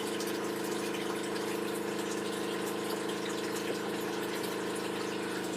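A solar-powered pump motor runs steadily, a constant humming drone with a watery rushing layer, close and even throughout with no pauses and no talk.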